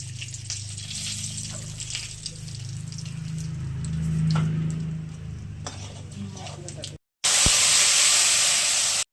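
Water is poured into hot frying masala for a paneer dish, starting a loud hiss that swells mid-way; after a short break a bright, intense spray-like hiss takes over at the end.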